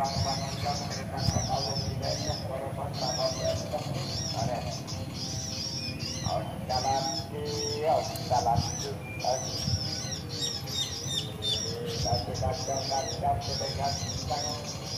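Sirpu birds calling from trees outdoors, with repeated high, thin chirps and tweets scattered across the whole stretch, moderately close, while someone talks over them and other birds sing in the background.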